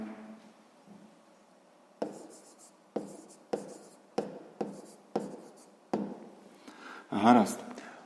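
Pen or chalk writing out a sixth-grade math exercise solution, a series of sharp taps and scratchy strokes in a steady rhythm, close and moderately loud, ending with a brief louder burst.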